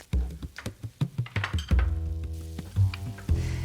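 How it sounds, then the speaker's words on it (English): Bread fries in a pan with a steady sizzle, broken by clinks and knocks of a utensil against the pan. "I don't have a toaster, which is why we fry the bread on here"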